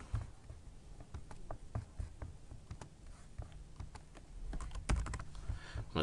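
Keys on a computer keyboard are tapped in quick, irregular bursts of sharp clicks, close and fairly quiet, with no talk over them.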